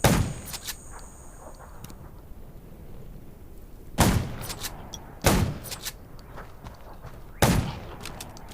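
Sharp, loud gunshots ring out in bursts in the video game Undawn, fired at zombies near a junkyard: an opening blast, then three heavy reports a second or two apart, with smaller cracks in between.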